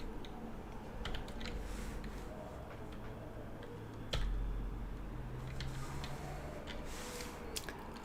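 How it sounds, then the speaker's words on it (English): Someone types on a computer keyboard while making a sewing game in Godot. The quiet, scattered key clicks sit under a steady background hiss. "Okay, so I'm just literally typing"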